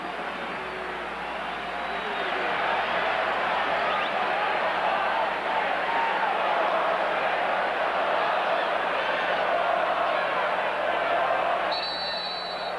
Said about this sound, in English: The Tennessee crowd thought they got a favorable spot.